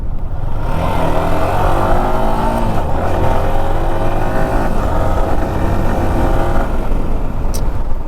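A Yamaha R15 V4 motorcycle accelerating hard in first gear, a loud close engine note climbing steadily in pitch with a brief dip as revs build again, no talking.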